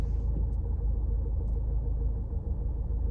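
Steady low rumble of a car engine idling in a traffic jam, continuous and fairly loud, with road noise and no speech.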